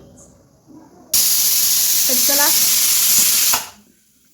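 Pressure cooker whistle venting steam in a home kitchen: one loud, steady hiss that starts abruptly, holds for about two and a half seconds, then cuts off, with a brief spoken phrase beforehand.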